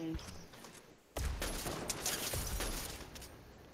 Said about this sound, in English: Uh-oh, I'm getting shot